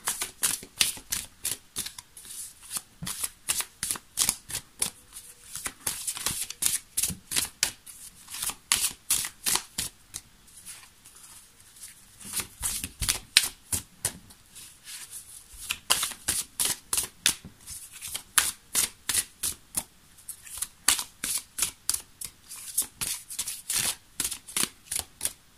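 Tarot cards being shuffled, a long run of rapid, crisp riffling bursts that come in steady waves, close and fairly quiet, with no talk.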